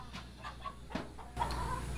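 A rooster clucks in short repeated bursts, fairly close, with a slightly louder cluck near the end over a quiet background hum.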